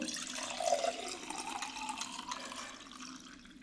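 Liquid poured into chopped raw mango and green chillies for a spiced mango buttermilk drink: a close, gurgling pour that swells early on, then fades to a softer trickle, with no talking.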